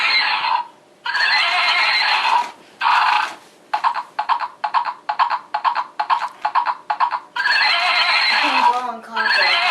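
An animated toy horse from Gemmy, Dan Dee or Cuddle Barn plays loud, close electronic neighing: long whinny bursts, then a rapid string of short pulsed neighs, then more long whinnies.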